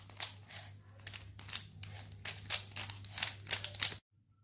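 Quick plastic clicking and rattling bursts as a Rubik's Cube is twisted and shuffled, close and fairly quiet over a steady low hum, ending abruptly.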